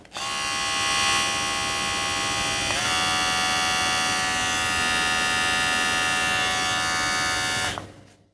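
A Kemei KM 2357 electric hair clipper runs at speed 4 with a steady, close electric buzz and hum. The pitch shifts slightly partway through, and the sound cuts off near the end.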